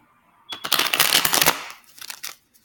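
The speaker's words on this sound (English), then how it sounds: "When I was shuffling the cards" A deck of tarot cards is shuffled in one brisk burst of crisp riffling and rustling, close and clear, followed by a softer second flurry.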